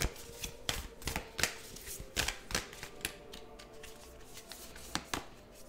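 Oracle cards being shuffled by hand, a quiet close-up run of soft irregular riffling taps and flicks.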